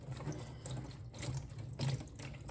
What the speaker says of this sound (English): rinse it until the water is clear